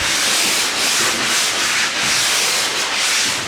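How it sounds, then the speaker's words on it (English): Steady back-and-forth sanding of pine doors with a 220-grit sanding sponge, a close, raspy scratching in even strokes with no talking. "This is just a 220 grit sanding sponge"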